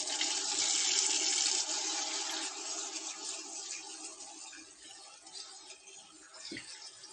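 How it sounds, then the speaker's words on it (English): Cold water runs from a tap over rice in a small sieve, a steady close rush of splashing that is loudest at the start and eases slightly, with no talk. "I use a little sieve and I put the rice into the sieve,"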